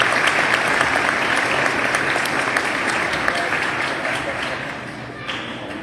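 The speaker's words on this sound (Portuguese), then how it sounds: "Vamos aplaudir a palavra do nosso Deus?" A church congregation applauds after a scripture reading, a sustained wash of many hands clapping close by that eases slightly toward the end.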